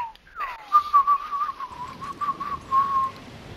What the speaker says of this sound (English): That's kind of a whistle.